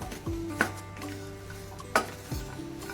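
Peanuts and garlic dry-roasting in a pan for garlic chutney, a quiet hum with two sharp metallic clinks of a spatula against the pan and soft scraping between them, close and alone.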